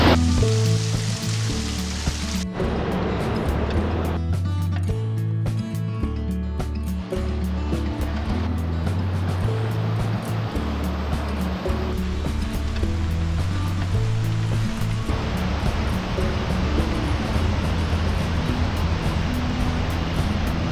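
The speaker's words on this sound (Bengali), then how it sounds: "প্রবল স্রোত, যেটা একমাত্র বর্ষাকালে এসেই এখানে দেখা যায়।" A strong monsoon river current rushes past a hillside homestay in Bijanbari, Darjeeling, giving a loud, steady wash of water that never breaks, with deeper churning swells rolling beneath it throughout.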